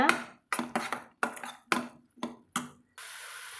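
Stirring baby potato masala curry in a pan, a metal spoon scraping and clinking in repeated short strokes, about seven close, fairly quiet bursts in a steady rhythm, ending with a soft sizzling hiss.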